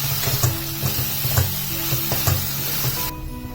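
Boiled potatoes are stirred into a sizzling tomato masala for poori kizhangu, with a steady frying hiss and repeated soft spoon scrapes against the pan before the sizzle suddenly drops away.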